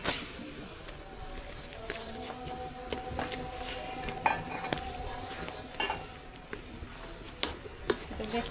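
A jaggery and palm pulp mixture is stirred in a pan for sweets made with fried rice and coconut, giving soft scraping with sharp utensil clinks against the metal and a faint sizzle underneath, without any voices.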